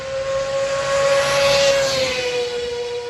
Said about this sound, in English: that was one last loud motorcycle.